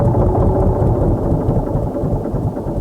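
A Case 1150 crawler dozer engine running at low idle, a steady, loud, loping rumble with a rhythmic low-end throb that goes on for the whole stretch, close by and with no talk over it.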